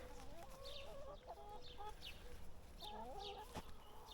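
Free-ranging farm chickens in a Bulgarian garden cluck repeatedly in short, close, chattering bursts against a steady outdoor background.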